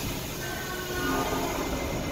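New York City subway train running through a station, a steady loud rumble of rail noise with faint high wheel squeal throughout.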